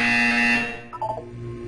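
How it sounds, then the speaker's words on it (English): A buzzer in the video game Portal 2 sounds loudly for about half a second as a harsh steady electronic tone, then cuts off, leaving a low hum with faint tonal blips. "You will hear a buzzer."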